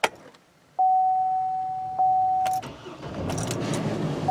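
A 2005 Chevy Colorado engine, previously idling rough and misfiring, cranks and catches, with a steady tone beeping alongside, then settles into a rough, low idle.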